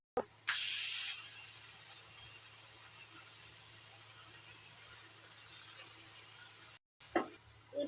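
Ground cumin and coriander paste hits hot oil in a pan with a sharp burst of sizzling that settles into a steady hiss, close by, briefly interrupted near the end.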